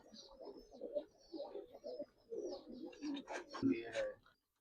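Giribaz hurricane pigeons coo in low repeated bursts, overlapped by someone talking nearby in a quiet indoor setting.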